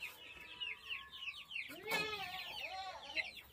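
Chickens in a dim enclosure at a small Assam zoo cluck and chatter close by, with a sharper squawk in the middle and several birds calling over one another.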